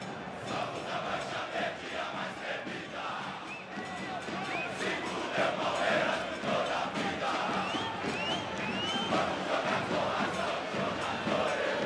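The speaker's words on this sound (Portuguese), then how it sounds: "você ouve ao fundo a torcida do Palmeiras que comemora 1 a 0 aqui no Estádio Olímpico" Palmeiras football fans chanting and celebrating a 1-0 lead at Grêmio's Estádio Olímpico in a 2012 Copa do Brasil semifinal, a distant, steady roar of crowd voices with occasional whoops.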